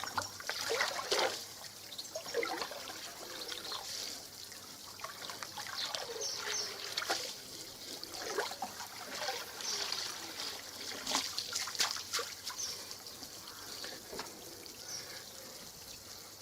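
Filter media from a DIY koi pond filter is sloshed up and down in the pond, giving quiet, continuous trickling and splashing water with irregular surges and drips.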